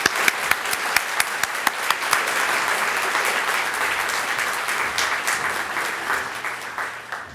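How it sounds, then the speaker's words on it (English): An audience at a STEM speaker series event applauds Adrienne and Gretchen, opening with a few distinct near claps that swell into sustained, dense clapping before tapering off. "let's give them a big round of applause"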